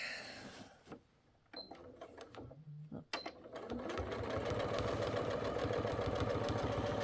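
A sewing machine stitches fabric for a couched bag. Soft handling and fabric rustle come first, then the machine runs in a fast, steady mechanical chatter, close and continuous for the last few seconds.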